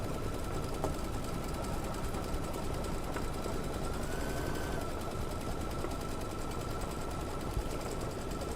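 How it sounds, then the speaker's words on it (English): A sewing machine tacks the back fabric of a stuffed ornament in place, a rapid, steady needle clatter running nonstop at close range with no voices. "So now we are just tacking our back fabric in place."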